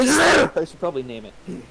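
A single loud sneeze bursts out at the start, followed by a person speaking briefly.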